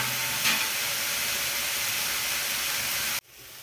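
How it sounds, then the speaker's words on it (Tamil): Onions sauté in a pan for prawn gravy with a loud, steady hissing sizzle close by, then the sound drops abruptly to a quieter sizzle near the end. "வதங்கட்டும் வெங்காயம் கொஞ்சம்."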